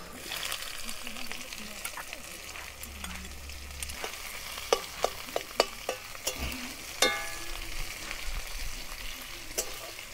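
Chopped onions frying in a pan for a festive vegetable dish, with a low, steady sizzle and a run of crisp stirring clicks and scrapes toward the middle, heard close and fairly quiet.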